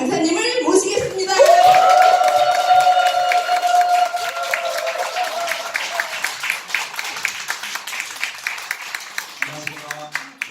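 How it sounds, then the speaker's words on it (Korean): An audience at a business seminar applauds to welcome a lecturer; after a rising whistle-like tone, dense clapping builds and continues steadily, with voices mixed in. "뜨거운 환영의 박수로 맞이해 주시기 바랍니다"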